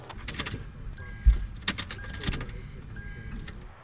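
A car with a dead battery fails to crank as the key is turned, giving a few sharp close clicks and a rattle of keys, with faint electronic chime tones in a quiet cabin.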